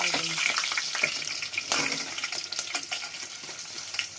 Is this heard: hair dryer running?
no